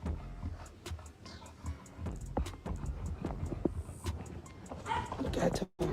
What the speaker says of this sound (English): Tell Chrisean to come pick up her dog